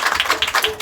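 A church congregation breaks into applause, a short, close burst of quick overlapping claps under a murmur of voices.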